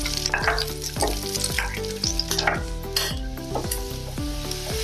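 Steady sizzling of onion, garlic and ginger frying in a pan, with repeated stirring scrapes throughout, close and fairly loud, no voices.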